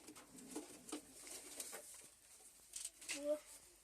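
Pigeons in a homemade coop give soft, low coos close by, quiet against faint background noise, while people talk nearby.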